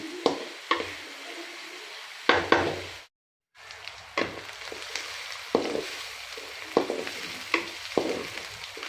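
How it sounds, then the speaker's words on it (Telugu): Sliced onions and green chillies frying in oil for a village-style Godavari fish curry, a steady sizzle with repeated stirring clatters and utensil knocks and a brief silent break midway. "ఈ ఉల్లిపాయ ముక్కలు, ఈ పచ్చిమిర్చి ఆయిల్లో బాగా వేగాలండి."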